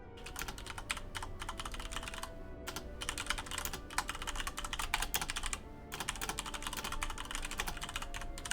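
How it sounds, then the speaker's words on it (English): Computer keyboard typing, steady and close, with dense rapid clicks running throughout and a few brief pauses. "Here's some ASMR typing."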